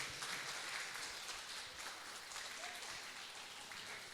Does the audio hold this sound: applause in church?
yes